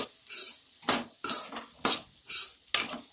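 Chana chatpati with red chili powder stirred in a pan: about seven rhythmic, close, scraping spoon strokes against the metal, each a crisp swish separated by short pauses.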